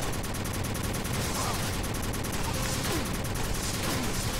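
Gunfire in the video game Kickass Commando: loud, dense, continuous automatic fire that rattles without a break, with layered shots and explosions packed tightly together.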